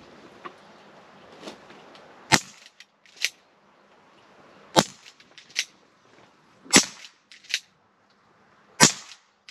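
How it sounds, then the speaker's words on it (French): Umarex Legends S40 4.5mm air revolver fired in single action, five or six sharp snapping shots spaced a second or two apart, each followed by faint mechanical clicks of cocking, close and loud. "on est reparti pour 6 coups."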